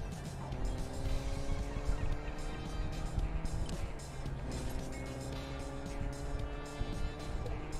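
A car in Fortnite drives steadily with a continuous engine drone and road rumble, loud and close throughout, while other game sounds sit faintly underneath.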